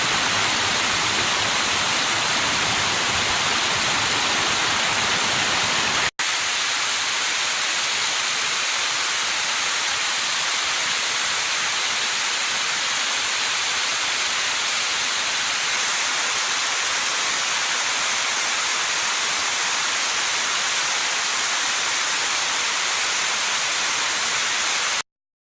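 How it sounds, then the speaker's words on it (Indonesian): Roughly 20-meter waterfall at the Hollat natural swimming pool on the Hoogland River, a steady, loud broadband roar of falling water filling the whole stretch without a break and with no voices. "Dan inilah air terjun tertinggi di Sungai Hoogland"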